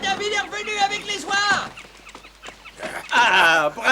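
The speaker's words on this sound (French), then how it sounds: "félicitations David, tu as réussi à persuader les oies de nous aider" Several cartoon geese honk in loud, overlapping bursts, a quieter gap in the middle, then another noisy flurry of honking close by.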